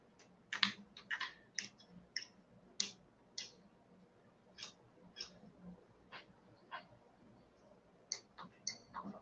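Quiet typing on a computer keyboard, irregular clusters of soft clicking keystrokes with short pauses, heard close in an otherwise calm room.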